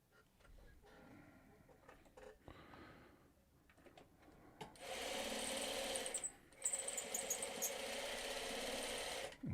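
A sewing machine stitches quilt hourglass blocks in two sustained runs of steady mechanical whirring, loud and close, after a quieter stretch of handling noises.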